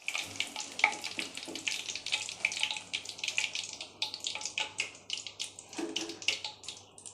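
Mushroom 65 pieces deep-frying in oil until crisp, a busy crackling sizzle with dense, irregular pops up close and no voices over it.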